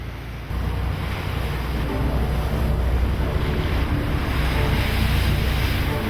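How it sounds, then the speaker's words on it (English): A sailboat heads out of a harbour into blustery wind near the Faroes and Iceland, with a loud, steady roar of wind buffeting the microphone over waves washing against the hull, and no voices. "It was blustery when we left the protection of the harbour."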